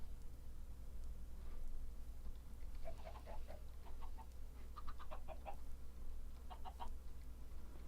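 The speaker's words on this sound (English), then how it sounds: "This is a chicken that looks like a duck." A video game chicken clucks in short, quick bursts of sharp chattering notes, several clusters spread across a faint steady background hum, with no talking.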